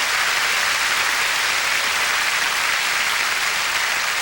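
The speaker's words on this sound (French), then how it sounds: "On l'applaudit, mesdames et messieurs" A comedy gala audience applauds a guest steadily and loudly throughout, a dense sustained wash of clapping with no talk over it.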